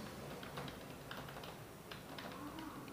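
Wireless keyboard keys pressed to play a game on a Poco F3 GT phone make quiet, irregular clicks and taps, in scattered small clusters.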